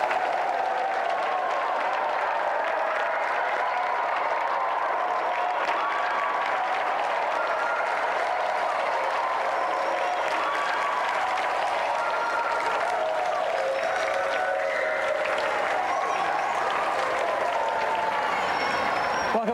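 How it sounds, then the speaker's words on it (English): Sustained applause from a sizeable TV game show studio audience fills the whole stretch, steady and even, with faint crowd voices mixed in. "Give a round of applause for our challenger."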